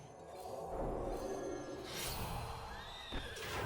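A horse neighs in the Hearthstone card game, one clear whinny over the game's continuous music and effects, with a soft whoosh near the end.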